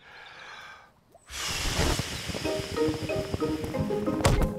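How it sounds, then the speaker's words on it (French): After a short quiet moment, a cartoon character blows hard on a toy boat's sail in a long, breathy whoosh, with music playing underneath. "Je vais souffler très fort sur la voile et il va avancer."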